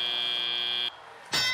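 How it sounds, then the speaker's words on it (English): A loud electronic match buzzer at a FIRST robotics championship drones steadily, cuts off briefly, then blares again even louder, harsh and close. "There goes the buzzer"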